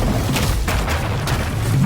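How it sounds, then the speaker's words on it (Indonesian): Booming cartoon cannon blasts and explosions go off in quick succession against a giant robot, dense and loud, with no talk. "beruntung tembakan mereka tepat sasaran dan Karen tetap saja bangkit dari serangan tersebut"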